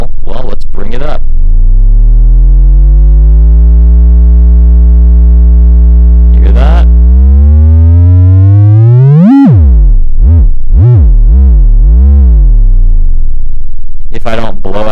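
The oscillator of a Bird Spirits utility module, set to a triangle wave, drones as a loud, steady buzzing tone. It then glides sharply upward and wobbles up and down in pitch, with a brief spoken voice at the start and end.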